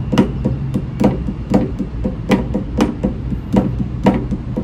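Flams struck slowly on a drum practice pad, left hand then right then left, each a sharp doubled tap in an even, unhurried rhythm, close and alone with no talking.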